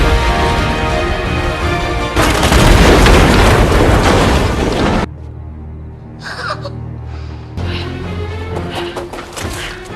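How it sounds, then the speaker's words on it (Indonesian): A gunfight scene from the 2022 action film The Gray Man, with loud booming blasts and crashes packed together, then quieter stretches broken by sharp bursts. "Terjadi baku tembak"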